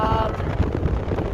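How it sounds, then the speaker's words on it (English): Strong mountain wind buffets the microphone in a continuous loud, rumbling roar, close and heavy throughout. "So windy"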